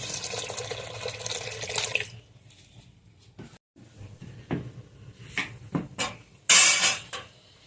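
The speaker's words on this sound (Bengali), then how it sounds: "এখন আমি ডালের মধ্যে পানি দিয়ে দিচ্ছি" Water added to cooked lentil dal in a kitchen, a steady pouring rush for about two seconds, followed by scattered drips, knocks and utensil clatter.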